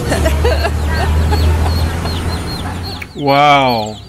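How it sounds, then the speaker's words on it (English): Chickens clucking on a crowded chicken bus in Guatemala, brief chirps and clucks over background chatter and vehicle noise, ending with a louder close cluck. "Wow, we did have some chickens on our bus."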